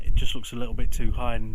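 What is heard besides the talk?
No everyday noises stand out.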